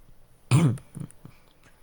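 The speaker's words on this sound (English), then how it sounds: "I am coughing way too much right now." A person gives one short, close throat-clearing cough, followed by faint breathy sounds in an otherwise quiet room.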